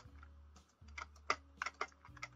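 A loud, clacky computer keyboard is typed on up close while playing Roblox Tower of Hell, sharp irregular keystrokes over a low steady hum.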